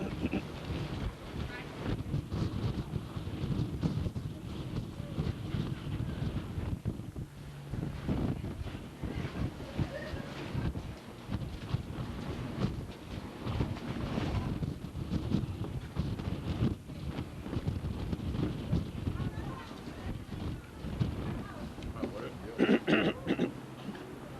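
Steady wind buffeting the microphone with a broad low rumble, continuous throughout, with faint voices in the background, on a muddy outdoor site at Deer Island.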